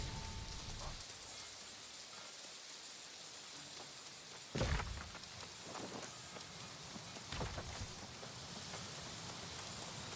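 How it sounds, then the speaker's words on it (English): Rain falls steadily in the video game New World, a soft continuous hiss across a mountain setting, broken by a couple of brief louder crackles partway through, with no voices. "I will say the rain is pretty cool"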